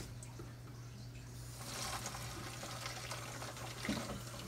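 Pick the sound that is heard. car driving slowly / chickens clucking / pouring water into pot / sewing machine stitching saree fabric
pouring water into pot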